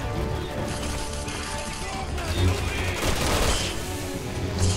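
Gunfire in the video game Resident Evil 6, with rapid shots and crashing impacts blending into a thick, steady wash of combat noise and music that swells slightly toward the end.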